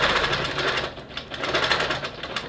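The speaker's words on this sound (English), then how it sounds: "And I'm going to sew over, line that stitch up with my edge of my foot," A longarm quilting sewing machine stitches steadily along a quilt edge, its dense rapid needle clatter running continuously and close up with no talk.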